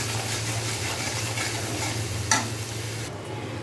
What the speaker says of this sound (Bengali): দিয়ে এবার আমি মশলাটাকে ভালো করে কষিয়ে নেব।